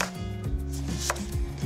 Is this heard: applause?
no